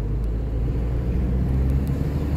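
A car accelerates onto a motorway entry ramp, heard as a loud, steady low engine and road roar from inside the vehicle, continuous for the whole stretch with no talking.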